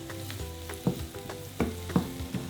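Onions sizzle in a pan while being stirred, a soft steady frying hiss broken by a few sharper scraping stir strokes, close up and fairly quiet with no speech.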